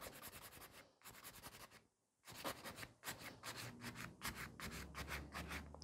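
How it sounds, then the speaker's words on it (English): Nail file rubbing back and forth across a fingernail during a manicure, with close, quiet rasping strokes in a rapid repeated rhythm, a short pause near the middle, then more strokes. "I'm filing only this part of the nail"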